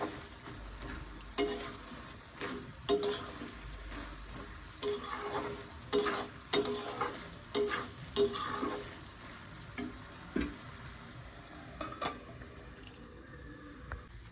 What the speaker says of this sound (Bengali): আর এই হচ্ছে বাঁধাকপি, দোকানে মাছের তেল ছিল, তো তেলটা আবার বেগুন দিয়ে করবো, সেই জন্য ভাবলাম যে না বাঁধাকপির মধ্যে দিয়ে দিই